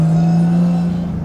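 A 600hp 2JZ sequential-turbo Toyota JZX100 engine holds a steady, loud droning note close by, a sustained even hum with slight wavering near the end.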